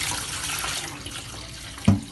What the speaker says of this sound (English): and then I just pour off the water